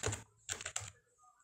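Short bursts of keystrokes on a computer keyboard while a text field name is entered in Adobe Acrobat Pro DC, three quick clusters of close, crisp clicks with no one talking.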